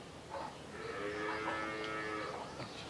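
A single drawn-out dairy cow moo rises and fades over a couple of seconds, fairly quiet against faint background noise at a dairy farm.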